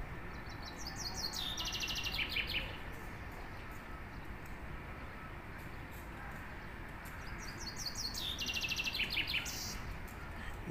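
Birds chirp in quick twittering bursts, twice, in a city centre in Georgia, over a constant hiss of distant background noise from the surroundings.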